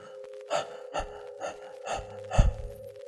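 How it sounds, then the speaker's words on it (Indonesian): Heavy panting breaths from someone running out of a graveyard, five sharp gasping bursts in a steady rhythm, close and fairly loud over a constant low hum. "Suaraku masih ngos-ngosan saat berlari."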